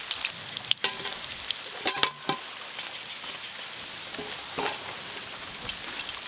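Lentil and fish-roe fritters in Malabar spinach leaves fry in hot oil with a steady, close sizzling hiss, broken by a few brief clatters from turning and lifting them, with no talk.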